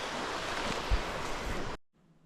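Water from a creek beside Big Creek Government Campground on an RV trip through the Yukon rushes steadily and close, a broad continuous wash that cuts off abruptly near the end, leaving quiet.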